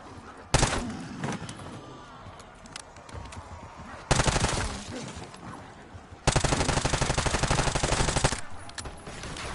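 Automatic gunfire in Call of Duty Black Ops 6: a short burst, then a longer one, then a sustained rapid-fire stretch of close, loud shots, with quieter game ambience and scattered pops between the bursts.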